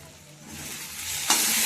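Chopped potatoes and onions frying in a pan, a steady close sizzle that grows louder and flares with a sharp hiss as more food hits the hot oil.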